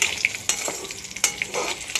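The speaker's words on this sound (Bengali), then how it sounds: "এবার জিরা আর এলাচ দারচিনিটাও আমি দিয়ে দিলাম ফ্লেভারের জন্য" Whole cumin, cardamom and cinnamon sizzle in hot oil on a low gas flame for a paneer and peas curry, a steady close frying hiss with sharp clicks of a spoon stirring against the pan.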